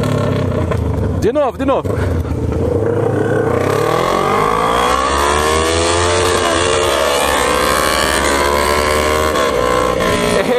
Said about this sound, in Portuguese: Quero acelerar do lado do Rodrigo.